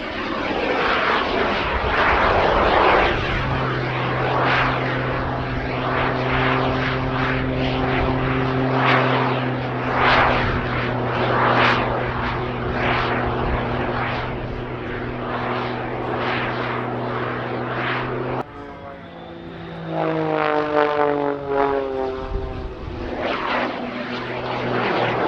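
Jet-assisted Pitts aerobatic biplane with two jet engines hovering at a Duxford airshow: a loud, continuous propeller and engine roar with steady drone tones, shifting pitch near the end as the aircraft manoeuvres.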